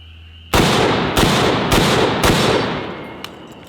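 An M1 Garand rifle fires four loud, close shots in quick succession, each with a rolling echo, followed by a faint bright ping from the en-bloc clip ejecting as the reverberation fades.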